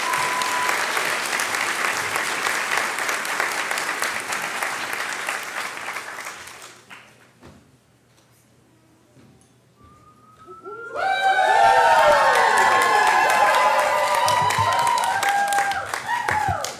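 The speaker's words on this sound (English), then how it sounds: "So one more time, a round of applause" A crowd at a university graduation hooding ceremony applauds loudly for several seconds, the clapping fades to near quiet, then surges back with cheering and whistles.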